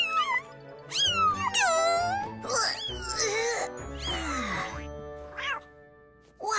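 Three newborn kittens in a cartoon mew in high, squeaky, overlapping cries, loud and near, over a music bed with tonal voice-like squeals throughout.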